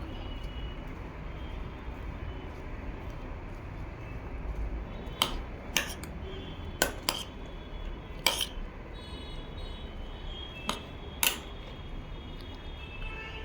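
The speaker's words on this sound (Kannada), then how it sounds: "ನಂತರ ಸ್ವಲ್ಪ ನಿಂಬೆಹಣ್ಣು, ನಿಂಬೆಹಣ್ಣು ಹಾಕಿ ಪುನಃ ಕಲಿಸ್ಕೋಬೇಕು." A mixed vegetable and sprouted-gram salad is stirred after lemon is added, with a spoon clinking sharply against the dish in a few irregular bursts over quiet background hiss.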